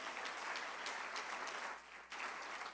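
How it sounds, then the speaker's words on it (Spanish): A church congregation gives loud, sustained applause that fills the space for nearly three seconds, with a brief dip toward the end before the clapping swells again. "Dale un fuerte aplauso al Señor."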